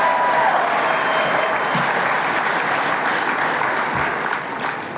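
A large audience applauds steadily from start to finish, a dense, continuous wash of clapping in a hall with a faint tone early on and no talk over it.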